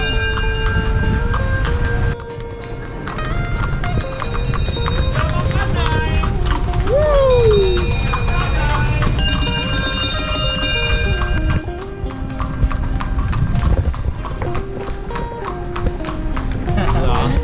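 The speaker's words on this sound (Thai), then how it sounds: "วันนี้มานั่งรถม้าที่ลำปาง" Horse hooves clip-clop steadily as a horse-drawn carriage rolls through Lampang, heard close beneath voices and tonal music that run throughout.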